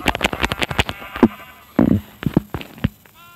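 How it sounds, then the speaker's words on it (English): Sheep in the Minecraft Pocket Edition video game give several short, close bleats spaced across a few seconds, mixed with sharp clicking hits and no talking. "might as well just kill these sheep"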